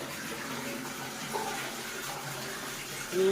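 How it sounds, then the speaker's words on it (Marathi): Continuous splashing of water pouring steadily into an old water tank, a constant hissing gush heard close by without talk. "पाणी पडते तुम्हाला दिसत असेल इथे"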